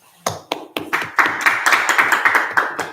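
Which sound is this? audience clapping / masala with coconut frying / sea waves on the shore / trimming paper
audience clapping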